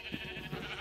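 Sheep bleating in Minecraft, among a flock of blue sheep: a soft, steady run of game bleats and animal murmur over a constant hum, close and continuous through the short stretch with no talk.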